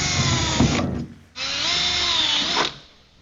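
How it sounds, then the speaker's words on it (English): A power drill bores holes through a fender flare on a Dodge Demon 170 body, in two loud whining runs separated by a short pause, with no talking. "drill the high confidence holes first, fit up our flare"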